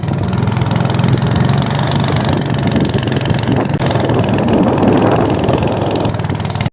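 A motorboat engine drones steadily on Ashtamudi lake in Kerala, a loud, continuous mid-low hum that runs without pause for the whole stretch and cuts off abruptly at the very end.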